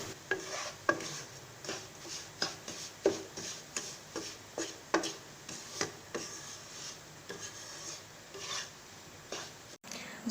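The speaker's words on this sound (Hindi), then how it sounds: "जितनी देर में सूजी उधर फ्राई हो रही है" Semolina roasting in a pan is stirred steadily, each stroke a rhythmic dry scrape repeating about twice a second over a faint sizzle, close and fairly quiet.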